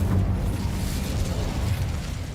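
Incendio fire spell cast in the Hogwarts Legacy video game: a burst of flame opens into a sustained low roaring rumble, fairly loud, with no talking.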